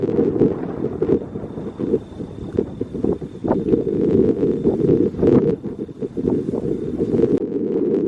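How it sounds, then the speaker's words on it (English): Steady, loud wind buffets the microphone with a constant roar and gusty rumbling bursts on a hilltop near Buffalo, Wyoming, with no voices. "This hill just north of here, it's very windy, so I apologize, of course, for the wind."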